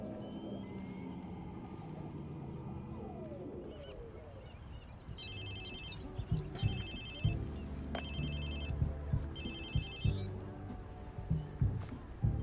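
A phone rings repeatedly in a steady rhythm of electronic bursts, loud and near, over a busy, noisy background with thumps and other sounds.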